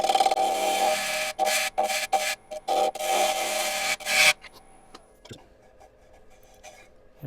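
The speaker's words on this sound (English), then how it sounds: "I'm gonna get the smaller gouge out just to try to get rid of, blend this down here a little better" Small wood gouge cutting and blending an out-of-round piece spinning on a lathe, a loud steady rasping scrape in repeated bursts that stops abruptly partway, leaving faint workshop ticks and quiet.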